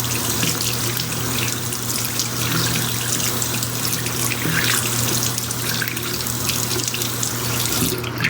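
Tap water runs steadily into a sink while a makeup brush is rinsed under it, a continuous close splashing flow with no pauses and no voices.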